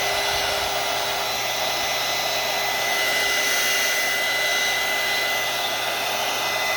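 Hair dryer blowing steadily to dry mica spray on paper, a loud continuous whooshing roar with a constant motor whine that holds unbroken throughout.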